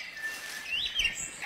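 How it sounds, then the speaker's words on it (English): A New Caledonian crow gives a short rising call, thin and fairly close, over faint background chirping from other birds, with no talking. "The crow calls down a young family member for some one-to-one tuition."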